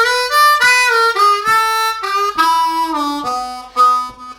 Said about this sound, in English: let's have a look at lick number 5